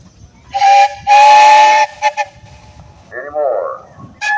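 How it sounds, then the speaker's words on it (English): A steam engine's whistle blows at a parade steam engine show: two loud, steady whistle blasts, the second held longer, followed by shorter toots amid outdoor crowd noise, with people talking nearby. "you got a whistle up there."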